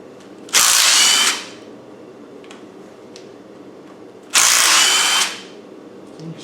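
Two loud bursts from a power tool tightening bolts while an engine is removed from a Spanish 110, each lasting close to a second and separated by a few seconds of quiet, with a faint clicking mechanism between them.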